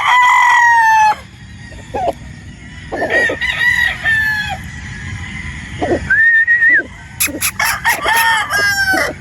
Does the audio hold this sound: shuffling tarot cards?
no